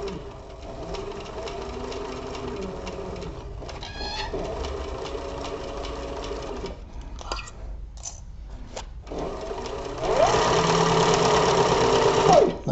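Stitching leather for a crossbody bag on a sewing machine, the motor whirring in steady runs with a short stop partway through, then a louder, faster burst near the end, all close up with no talking.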